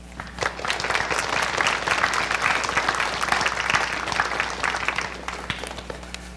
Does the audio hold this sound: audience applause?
yes